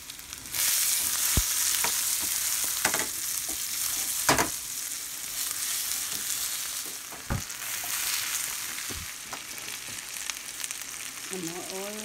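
Thai eggplant cooks with garlic powder in a stir fry. A loud, steady sizzle runs throughout, broken by several sharp clacks and scrapes of a utensil against the pan.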